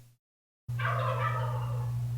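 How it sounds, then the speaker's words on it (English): Turkeys gobble together in a loud, rattling burst close by, following a brief moment of silence. "Those turkeys are loud."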